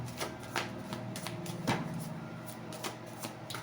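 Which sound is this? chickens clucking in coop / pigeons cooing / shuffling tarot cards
shuffling tarot cards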